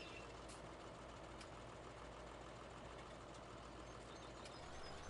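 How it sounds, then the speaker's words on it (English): A tractor engine in the Farming Simulator 2017 game drones steadily with a faint, constant idling rumble, unbroken and alone with no talk over it. "the wonders of this tractor, you just wander along, drive up like this"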